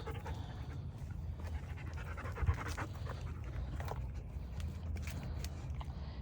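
A dog named Sunny pants steadily close by, a continuous rhythmic breathing over soft background noise, with one brief louder bump midway.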